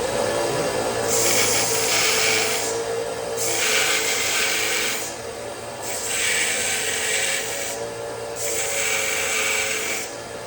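A chert edge on a flintknapped point is abraded to sharpen it, making four bursts of bright, close scraping separated by short pauses over a steady background hum.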